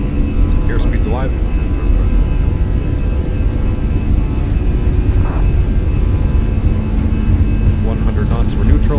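Airbus A320 jet engines spooling at takeoff thrust in a flight simulator, a loud, steady roar with a constant whine, while voices talk over it.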